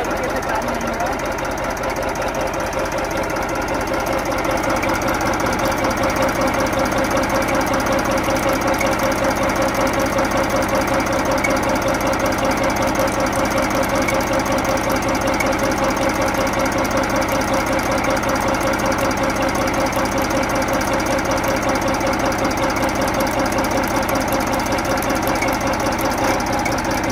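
A Massey Ferguson 1035 DI tractor idles just after being started following a month unused, its diesel engine giving a loud, steady knocking chug that runs continuously and close up for the whole stretch.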